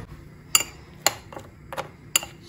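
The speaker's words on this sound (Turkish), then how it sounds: "Şöyle karıştırayım." A spoon clinks against the side of a bowl while stirring baby's oven-baked rice pudding, four or five sharp, bright taps spaced about half a second apart over a quiet background.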